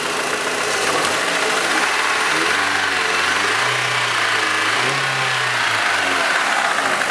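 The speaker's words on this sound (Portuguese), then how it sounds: "Parte do motor aqui, só aquela batidinha de tucho normal do Chevrolet" A 1998 Chevrolet Vectra GLS engine runs steadily close by, a continuous mid-pitched drone that rises and dips slightly in revs, with a faint light tappet knock beneath, no voices.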